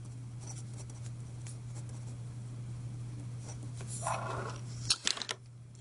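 Pen or chalk writing out a statistics formula, a faint scratchy stroking under a steady low electrical hum, ending in a few sharper taps.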